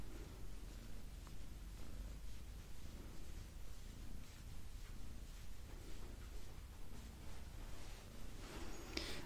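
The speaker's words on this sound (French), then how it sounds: "En espérant que vous entendez les ronronnements de Luna." A low, steady purr rumbles continuously throughout, close and soft, with faint rustling in the background and no talking.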